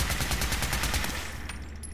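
Kiloton Radium Rifle in Fallout 4 firing exploding bullets, a rapid rattling burst of evenly spaced shots for about a second, then a fading crackle and tail as the fire stops.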